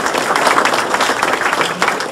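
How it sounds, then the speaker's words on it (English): A crowd at a city address applauds city staff, a dense wash of clapping that holds steady and fairly loud throughout the short moment. "I want to give them a round of applause again"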